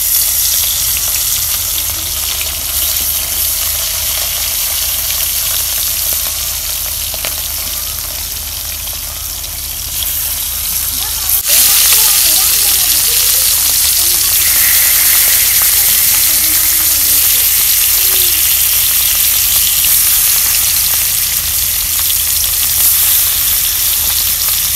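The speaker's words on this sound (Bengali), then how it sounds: "এখন আমি মাছ তেল গরম হলে মাছ দিয়ে দিই" Fish rubbed with turmeric sizzles loudly and steadily in hot oil, a continuous close hiss and crackle. It swells louder about halfway through, once fresh pieces go into the pan.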